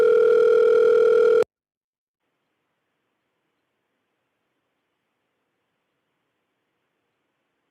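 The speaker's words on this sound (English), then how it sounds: "It's still ringing." A steady telephone tone sounds on a call-in line for about a second and a half, loud and alone, then cuts abruptly to silence.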